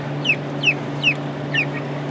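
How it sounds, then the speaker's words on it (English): Soft, high peeping calls from Cornish Cross chickens repeat about four times at a steady pace over a constant low mechanical hum, with no talking. "there's some more birds heading this way right now too"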